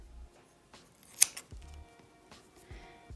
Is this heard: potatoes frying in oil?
no